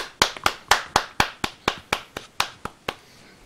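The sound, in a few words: small round of applause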